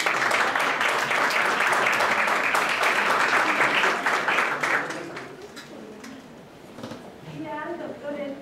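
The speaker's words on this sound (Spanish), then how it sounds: "Un fuerte aplauso." Loud, dense applause fills an auditorium after a lecture on the 99th anniversary of the Constitution, then fades around the midpoint into scattered claps and low room murmur.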